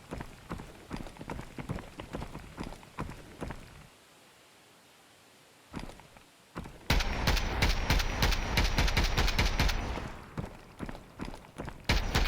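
Player footsteps in the shooter Exfil Zone, a run of quick, fairly close steps that stops for a moment before a louder burst of rustling movement and more steps resume.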